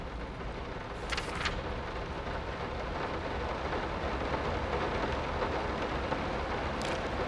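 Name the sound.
heavy rain in the video game Layers of Fear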